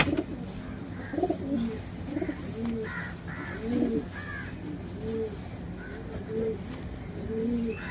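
Six female racing pigeons cooing close by: soft, rounded, repeated coos in an irregular rhythm over a steady background hum.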